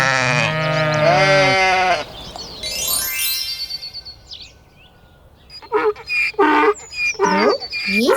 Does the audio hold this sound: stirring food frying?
no